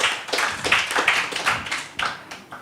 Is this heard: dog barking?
no